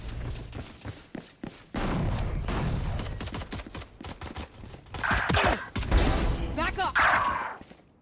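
Video game gunfire crackles in loud, dense bursts of rapid shots and thuds, with heavy sustained stretches and sharp bangs, and excited voices talk over the action.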